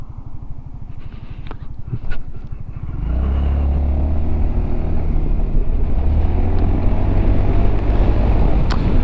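A 2022 Honda ADV350 scooter ridden on the road gives a loud, close engine drone with wind buffeting. The engine idles with a low pulsing, then picks up into a steady, louder hum as the scooter moves and pulls over.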